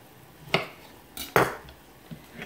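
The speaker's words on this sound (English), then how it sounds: "cut my pear in half" Knife cutting a pear in half on a kitchen surface, a few sharp clicks and taps of the blade against the board, quiet and close with no talk.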